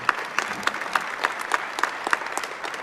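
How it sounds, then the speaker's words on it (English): Audience at a school valedictory and Year 12 prize-giving ceremony clapping for students, a moderate steady patter of many hands in a hall, fairly soft and distant, with no talking. "A round of applause for these students."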